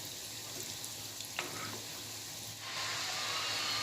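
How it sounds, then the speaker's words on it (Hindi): Cheese balls deep frying in oil on high flame, a steady bubbling sizzle that swells louder partway through, close and alone without talk. "इसे तेज आंच पर ही फ्राई करके लेंगे। इसे गोल्डन होने तक हम तलेंगे।"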